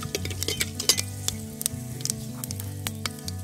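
Cumin seeds and about ten black peppercorns crackle in hot oil for ven pongal, a close sizzle dotted with sharp pops and light metal clinks over a low background hum, with no voices.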